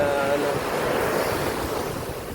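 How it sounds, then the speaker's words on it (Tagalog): Strong surf at Caba Beach, La Union, Philippines roars continuously, close by, with broad rushing noise and wind buffeting the microphone; no clear voices. "malakas yung alon"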